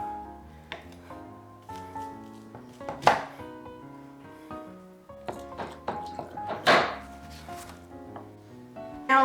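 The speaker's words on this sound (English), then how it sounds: "I am just going to cut these into pieces about like a couple inches" A knife slices three rings of kielbasa into pieces a couple of inches long, giving a series of sharp knocks on a cutting board amid kitchen clatter, with irregular spacing and no one talking.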